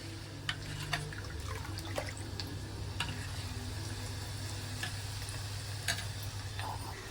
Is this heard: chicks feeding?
no